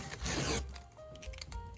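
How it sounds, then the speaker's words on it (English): Masking tape peeled off a surface freshly painted with two coats, a close, loud dry ripping tear over about half a second, followed by quieter scraping and rustling. "I'm going to take the tape off"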